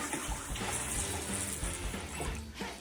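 A small bowl rinsed under a running tap gives a steady, close rush of water that continues throughout, with no voices.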